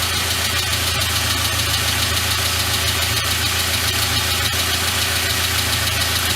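An MG Rover car engine running steadily at idle, a constant close mechanical hum and rumble with no talk over it.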